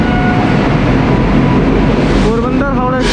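A Ghaziabad WP7 locomotive in Goyal TMT livery, hauling the Porbandar–Howrah Express at Nagpur railway station, gives a loud, steady, broad rumble, with faint tonal sounds rising near the end.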